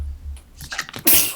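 During an UNO card game among friends, one person lets out a single sharp sneeze, with a quick breathy build-up and an explosive burst at the end.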